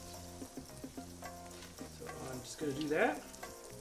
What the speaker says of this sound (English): Medium heat, so I'm just melting this butter down really quick